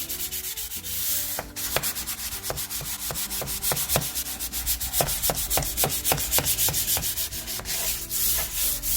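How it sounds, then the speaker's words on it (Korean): Sandpaper rubs along the grain of solid wood furniture in steady back-and-forth strokes, with close, scratchy passes repeating in a quick, regular rhythm. "끝에서 끝까지 다 꼼꼼하게 결 방향으로 사포를 내주셔야 됩니다."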